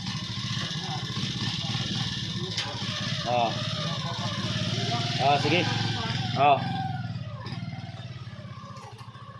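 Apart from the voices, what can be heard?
motorcycle engine running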